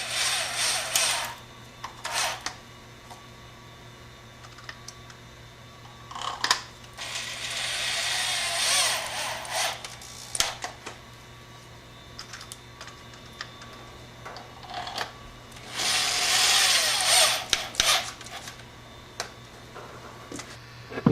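Screws being tightened on the plastic case of a battery switch in a solar battery bank setup, with a few clicking, ratcheting bursts of several seconds each against a quiet background hum.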